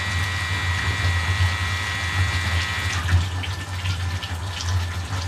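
A pump pushes hot water around a closed heating loop, giving a steady low hum under constant trickling, rushing water with no talk.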